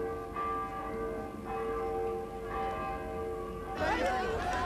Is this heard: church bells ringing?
yes